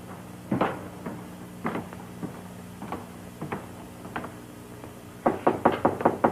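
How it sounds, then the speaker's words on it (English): Knuckles rap on a wooden door in a vintage Racket Squad TV drama: a few spaced single knocks, then a quick burst of about six knocks at the end, fairly close and clear with no voices. "Better knock before you go in."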